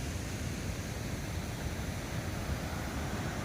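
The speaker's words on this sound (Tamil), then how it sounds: "தண்ணி நிறைய போகுது இதில்." Water flows steadily through a temple pond channel, a constant broadband rush at low level with no talk over it.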